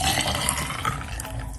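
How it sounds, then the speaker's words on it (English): Beetroot juice poured into a glass, a steady liquid gurgle and splash lasting under two seconds, close and fairly loud with no talk over it. "So we're gonna pour the beetroot,"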